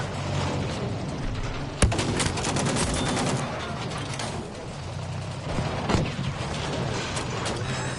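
Steady Battlefield V firefight gunfire with dense, continuous crackling shots and a sharp louder crack near the start, over a constant busy battlefield din with no pauses.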